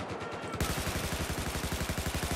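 Rapid automatic machine gun fire in the World War I shooter Battlefield 1, a fast, steady burst of loud close shots with no one speaking.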